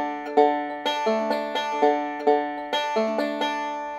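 A banjo plays a rhythmic backup roll that starts on the open fourth string, with bright plucked notes ringing in a steady repeating pattern of clear attacks and decays, played alone and close.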